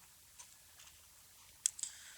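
Mouse clicks on a computer during a spreadsheet-style data lesson: a faint tick, then a sharper close double click near the end over a quiet room.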